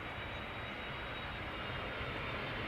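An Icelandair airliner landing at Amsterdam Schiphol, giving a steady, fairly distant jet rumble and broad wash of engine noise, even and unbroken.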